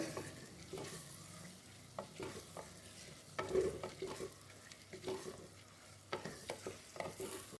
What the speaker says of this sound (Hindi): अब आपने अच्छे तरीके से दाल माश को भून लेना है मसाले में।